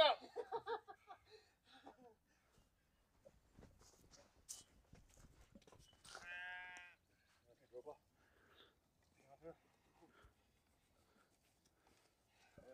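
A sheep being caught for shearing gives one short, clear bleat partway through, among scattered shuffling, footsteps and handling noises in a quiet pen, with people talking and laughing at times.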